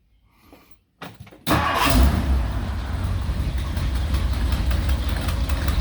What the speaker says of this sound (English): we fired up the car.